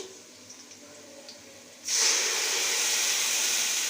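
Quiet background, then a sudden loud burst of sizzling as spices hit hot oil with nearly fried onions, settling into a strong steady hiss.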